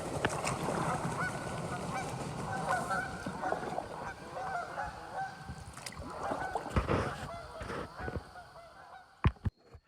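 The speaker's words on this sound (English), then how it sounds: "That was a whole flock of geese taking off." A whole flock of geese takes off from the water at dawn, a dense clamour of overlapping honks and wingbeats filling the air, close and loud, then thinning out and fading near the end.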